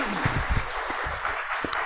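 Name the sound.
church congregation applause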